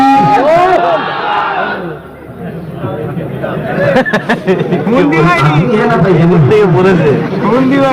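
Crowd of people shouting a takbir chant at a Bengali religious gathering, voices rising together in loud bursts over a preacher's amplified talk, with chatter between calls.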